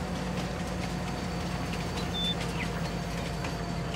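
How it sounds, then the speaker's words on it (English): A train in a farming video game rumbles along at a low, steady level, with a continuous hum and faint mechanical clatter and no talking. "It is time for the train."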